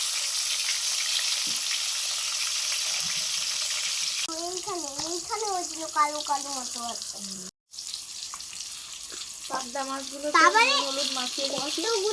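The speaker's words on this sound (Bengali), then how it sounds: "আর এই কড়াইতে ভাজছি মাংসের আলু" Potatoes for a meat dish sizzle in oil in a wok with a steady hiss throughout, while a person talks over the frying for much of the time.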